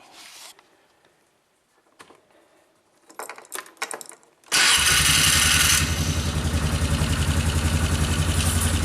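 An ATV engine with a newly repaired muffler is started after a few seconds of quiet handling and clicks, catches abruptly, roars briefly, then settles into a steady, close, rhythmic idle.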